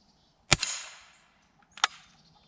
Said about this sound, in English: Daisy Powerline 880 versus Fritos can. It's already been pumped. It's got one pellet.